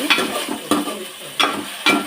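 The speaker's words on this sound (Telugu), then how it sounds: "మళ్ళీ నీట్గా ఫ్రై చేసుకోండి." Ginger, garlic and onion paste frying in oil for a fish curry, a loud close sizzle broken by four sharp bursts of stirring.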